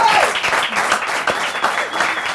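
An audience breaks into brisk applause, a dense patter of many hands clapping steadily and fairly close, lasting a couple of seconds.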